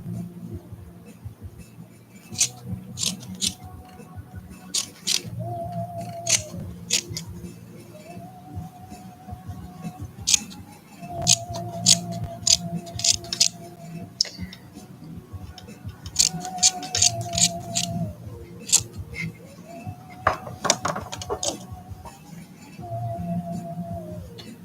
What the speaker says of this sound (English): Now I need to give this a bit of a trim.